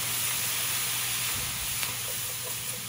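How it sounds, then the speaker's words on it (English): Wine poured into a hot pan of pork meatballs, hissing and sizzling steadily throughout with a broad wash of steam, close and fairly loud. "when you add your wine, you don't have your face nearby because it's going to steam."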